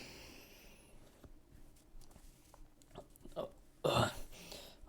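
A man's burp during a chest, shoulders and triceps push-day gym workout, one loud, fairly close belch standing out briefly over a low background of gym noise and faint movement.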